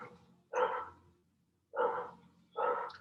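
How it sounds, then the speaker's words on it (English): A dog barks outside a house, three separate barks spaced apart, heard faintly and fairly far off with no talking. "Sorry about the dog."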